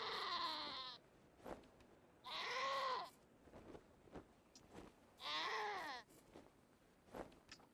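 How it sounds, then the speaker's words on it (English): A screaming goat in the video game Wasteland 2 lets out three loud, drawn-out bleating screams about every three seconds, with soft clicks and taps in the quieter gaps. "Just a screaming goat."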